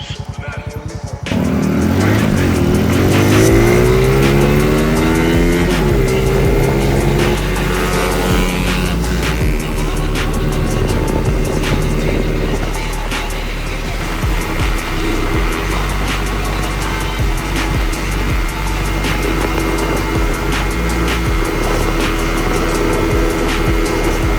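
A Spark 125C-2AM motorcycle starts off and accelerates hard on a top-speed run, its engine note rising through gear changes and then holding a loud, steady drone up close.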